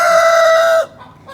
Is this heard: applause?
no